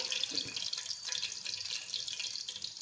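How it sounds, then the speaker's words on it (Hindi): Chicken pieces fry in hot oil for a restaurant-style Manchurian, a quiet, even, bright sizzling hiss that runs unbroken from start to finish. "अब इसी तरह हम आहिस्ता आहिस्ता दूसरे चिकन पीसेस जो रह गए उनको भी फ्राई कर लेंगे"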